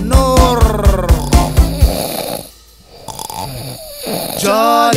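A cartoonish snoring effect in a Hindi children's song gives a loud, rhythmic run of repeated snorts and rasps, followed by quieter musical backing.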